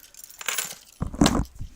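A set of keys jangles and drops, giving a few bright metallic clinks followed by a louder clattering impact, close and fairly quiet, with no talking.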